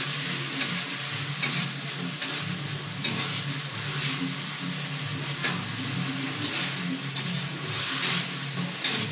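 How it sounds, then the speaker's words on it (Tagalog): Century tuna sautéing for sisig in a pan gives a constant loud sizzle and crackle, with a low rumble underneath and periodic stirring scrapes, close up with no speech. "Gisa-gisa lang natin"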